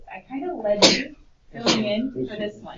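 A person in a high school algebra classroom gives one sharp sneeze, overlapping with nearby talk.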